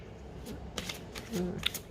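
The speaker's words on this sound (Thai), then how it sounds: "เวลาสับไพ่ อาจจะต้องระวังนิดนึงนะคะ" Green Witch Oracle cards, a slippery deck printed on soft, thin card stock, riffled in short papery bursts, close and fairly quiet, with a few brief flicks.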